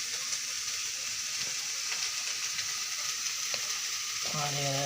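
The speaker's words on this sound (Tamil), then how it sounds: "காலிஃப்ளவர் வதக்குறாங்க." Cauliflower sautéing in a pan, a steady close sizzle with scraping and stirring sounds running throughout, and a brief tonal clatter near the end.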